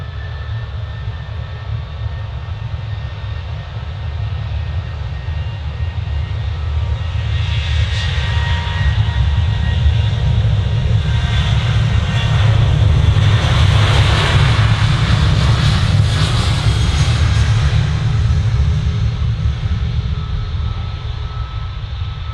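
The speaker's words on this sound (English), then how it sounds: "737-800 off to Amsterdam, flight KL" A KLM Boeing 737-800 departs Manchester Airport for Amsterdam, its jet engines building into a loud, steady roar that peaks mid-pass before easing slightly, heard alone without voices.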